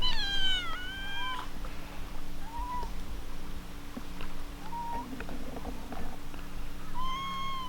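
Cats living on an island in Indonesia meow repeatedly, with a few drawn-out wavering calls at the start and end and shorter meows between, close and clear over an outdoor hum.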